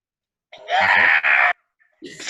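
Performers imitate newborn babies screaming in a stage play of Hansel and Gretel, two loud shrill cries about a second long, then a third rising scream after a short pause.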